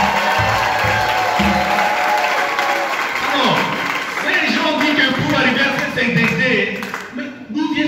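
A church congregation in Kisangani applauds during a All Saints' Day homily, with loud sustained clapping and cheering from a large crowd and voices calling out throughout.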